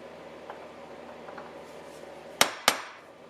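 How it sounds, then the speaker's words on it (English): A nail set is struck against metal to punch small divots, giving two sharp, close metallic taps in quick succession with a brief ring after each. Quiet shop ambience sits underneath, and no one speaks. "I'm just going to take a nail set and just tap a little divot in here on each one of my dots."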